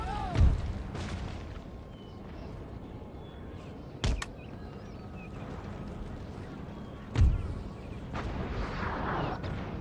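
Cannon artillery fire on a battlefield in Empire: Total War, with three sharp booming shots spaced a few seconds apart over a steady murmur of battle ambience.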